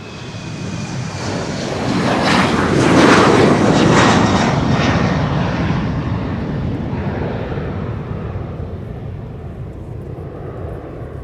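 A small business jet takes off at Amsterdam Schiphol, a loud broadband engine roar that swells to a peak within a few seconds and then slowly fades as it climbs away.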